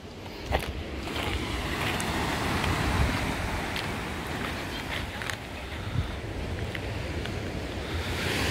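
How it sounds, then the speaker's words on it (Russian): Rough sea waves crash onto the shore at Lazarevskoye on a stormy morning, a steady rushing roar with gusty wind buffeting close by. "Море штормит опять."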